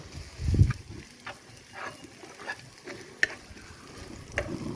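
Chopped onion hits hot oil with a soft thump, then fries with a low, quiet sizzle punctuated by occasional light stirring scrapes and clinks against the pan.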